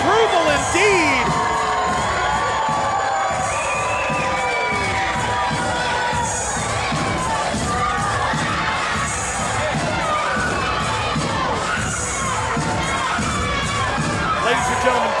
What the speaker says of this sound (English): This crowd showing their approval indeed.